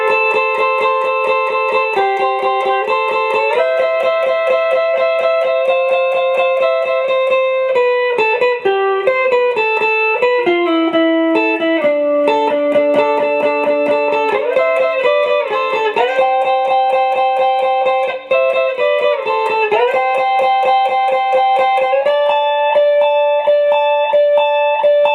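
A clean, undistorted electric guitar plays a solo from a song, two-note parts strummed and slid in a steady sustained melodic line, loud and close with no voice.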